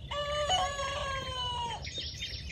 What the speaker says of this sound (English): That's my new Australorp rooster learning to crow.